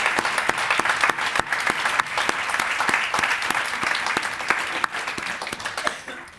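Audience applause at a university spirituality lecture as department faculty and students rise, dense sustained clapping from a sizable indoor crowd with sharp individual claps standing out, tapering off slightly at the end.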